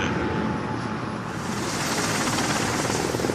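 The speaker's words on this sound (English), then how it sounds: "The deck is buzzing with helicopters." Sea King helicopters running on a ship's deck make a steady, loud rotor and engine roar that fills the clip without a break. No one speaks.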